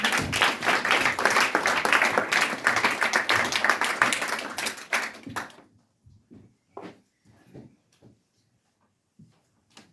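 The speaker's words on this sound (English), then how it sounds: "Big applause for him." An audience at a film awards event applauds a filmmaker, dense clapping for about five seconds that thins out into a few scattered, isolated claps and then quiet.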